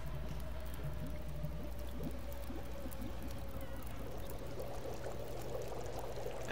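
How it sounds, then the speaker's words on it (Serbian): Snow melting into water over a fire in The Long Dark video game, a steady bubbling, pouring water sound with a faint tonal hum running underneath, continuous and close for several seconds without speech. "meltaću još ovog snova, jer mi treba još vode da imam za večeras"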